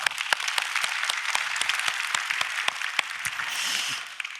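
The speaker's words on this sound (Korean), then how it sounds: "박수." A church congregation at a Korean thanksgiving dawn revival service applauds, a full, steady wash of many hands clapping that swells slightly near the end.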